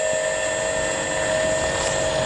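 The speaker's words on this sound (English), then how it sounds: "The squirrel, it's taken off in the plane." A radio-controlled toy airplane's motor whines steadily as the model takes off, a continuous high-pitched buzzing drone with strong tonal lines holding loud and even throughout.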